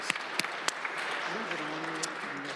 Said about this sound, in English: So if we could give Chief Davey a round of applause